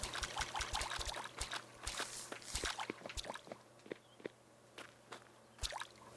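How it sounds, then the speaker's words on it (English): Crops being watered in the video game Staxel, with quick splashing and trickling water bursts mixed with footsteps and small clicks, fairly quiet and uneven in rhythm. "Now I guess we should probably throw a little slop of water down on all this."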